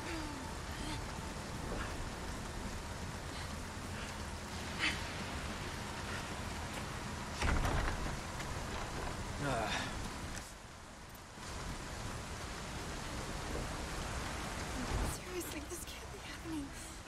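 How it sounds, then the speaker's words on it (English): Steady rainfall in the video game Resident Evil 4 Remake, a dense continuous hiss of rain on surfaces with occasional sharper splashes and thuds, heard at an even level throughout. "this is really bugging me with the rain"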